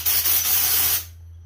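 Compressed air blasts from an air chuck on a Harbor Freight Fortress 26-gallon compressor hose, a loud hissing rush for about a second before it cuts off, leaving a low steady hum.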